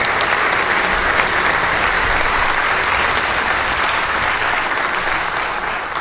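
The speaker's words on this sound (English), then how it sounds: "If you give her a round of applause." Audience applause greeting a singer invited onto the stage at a 2019 gala performance, a dense, steady wash of clapping that holds loud and even for the whole stretch, easing only slightly at the very end.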